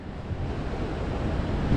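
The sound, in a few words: ocean waves on the Reykjanes coast, Iceland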